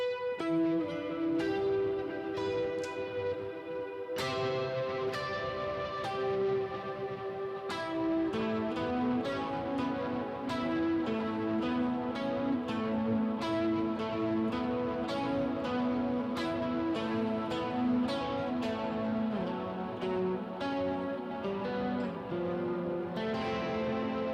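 A Gretsch Silver Falcon Players Edition electric guitar with lighter overdrive through a pedalboard plays a long, steady run of picked notes and chords, clear and ringing with reverb tails, continuous throughout.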